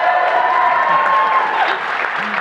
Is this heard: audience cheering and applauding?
yes